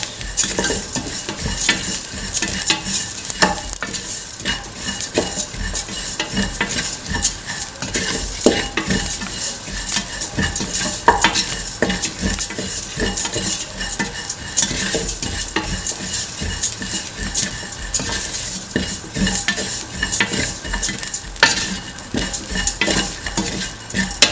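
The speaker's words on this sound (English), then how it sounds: "mix in the onions, cumin and the shallots" Onions, cumin and shallots frying in a pan, stirred continuously so a dense, loud sizzle carries rapid scraping and clattering utensil strokes throughout, with no one speaking.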